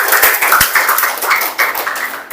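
Students in a classroom give a round of applause for a classmate, a short burst of loose, uneven hand claps that starts near the middle and thins out, close by and moderately loud.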